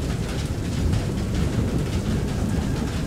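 Rain and thunder in the game FAR: Lone Sails, a heavy steady downpour with a low rumbling undertone throughout, loud and enveloping with no voices.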